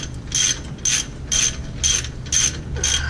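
Rapid clicking bursts of a ratchet snugging wheel studs on a 2014 Ford Explorer hub, six evenly spaced bursts of metallic pawl clatter, close and fairly loud, with no talk.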